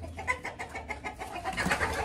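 Chickens cluck softly nearby in a quick run of short, low calls.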